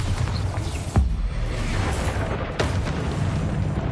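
Bombarda blast spell in a Hogwarts Legacy duel: two sharp booming explosions about a second and a half apart, loud against a rumbling, noisy combat background.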